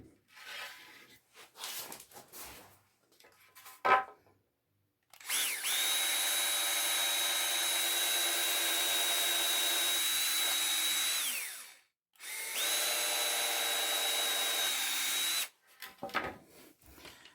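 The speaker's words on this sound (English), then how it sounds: "So now I need to drill my holes." A power drill bores holes in wooden boards for a model railway layout, with two long, loud, close bursts of whining motor separated by a short pause, plus handling clatter and knocks before and after.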